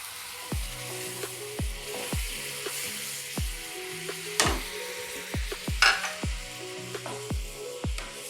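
Carrot halwa with milk and sugar cooks in a pan, a steady close sizzle broken by repeated sharp scraping and stirring strokes of a utensil against the metal, with occasional louder clanks.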